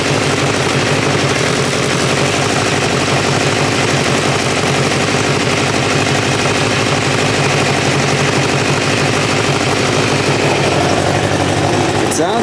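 A 1986 Kawasaki Ninja 600R motorcycle engine runs steadily at idle, a loud continuous mechanical rumble and patter close by throughout, with no speech over it.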